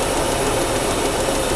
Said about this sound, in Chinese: 然后引擎抖动很厉害